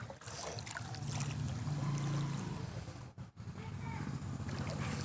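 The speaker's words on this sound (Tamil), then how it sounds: "தண்ணி எவ்வளோ நிறைஞ்சு ஓடுது பாருங்கள்" Floodwater from Cyclone Nivar running through a residential street in Perumbakkam, Chennai, a continuous rushing and splashing wash at moderate level, with a low rumble and a brief dropout near the end.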